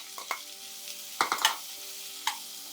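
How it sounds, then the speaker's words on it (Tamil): Onions soften in a pan for mutton kulambu, a faint low sizzle under several distinct scraping strokes of a spatula stirring them, quiet and close, no talking. "வெங்காயம் வந்து லைட்டாக வதங்கட்டும்"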